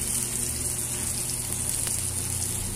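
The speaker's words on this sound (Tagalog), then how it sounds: "Ginigisa na natin." Spices and aromatics sautéing in a pan, a continuous loud, close sizzle and hiss that stays even from start to finish, with no talking.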